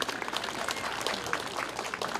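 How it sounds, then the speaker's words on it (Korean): A small crowd applauds at a festival opening ceremony, a short burst of scattered clapping at moderate distance, steady for about two seconds. "박수 한번 부탁드리겠습니다"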